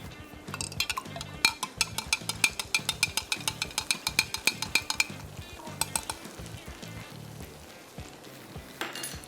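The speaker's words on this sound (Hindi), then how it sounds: "अब मैं इसमें डालूंगी दिस वन, बीफ स्टॉक" Beef stock poured into a pot of sizzling beef stroganoff, a spoon scraping and clinking against the pot in quick repeated strokes over a steady frying hiss, close and fairly loud, no voice over it.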